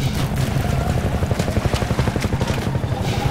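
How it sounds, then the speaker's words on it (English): A Hunter Chopper helicopter in Half-Life 2 throbs loud and near, its rotor pulsing in a fast, even rhythm under a rumbling low drone that stays steady throughout. "Hunter Chopper! Hunter Chopper! Run for your lives!"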